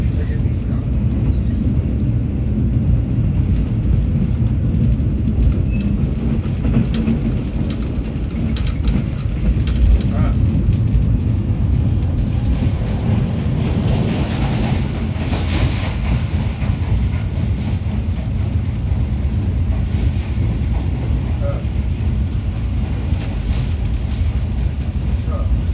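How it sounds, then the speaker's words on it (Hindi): The Shalimar Express runs through a railway station without stopping, a steady heavy rumble of wheels and carriages that lasts throughout, with occasional louder clatter and faint background noise. "गंबट रेलवे स्टेशन से थ्रू पास हो रही है 27 अब शालीमार एक्सप्रेस"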